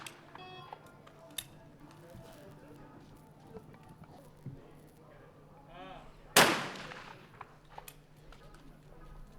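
A single shotgun blast from a men's trap shooting final cracks sharply out of low outdoor ambience with a brief ringing tail, faint murmurs and bits of commentary around it.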